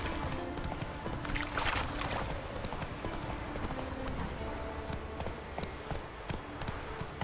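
A horse gallops in the video game The Witcher 3. Steady, rapid clip-clop hoofbeats run throughout over a dense, continuous game ambience.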